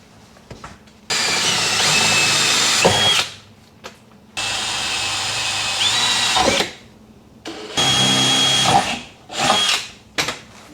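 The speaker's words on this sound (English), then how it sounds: "I need to drill a hole about yay big through all those mounting points" A power drill bores holes through car mounting points for aero parts on a Subaru Legacy, running in three long loud bursts and a couple of short ones, separated by pauses.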